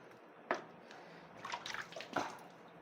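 Water is splashed and poured over a cow named Radhu as she is washed. A few separate, fairly quiet splashes and drips come in short bursts against a low, still background.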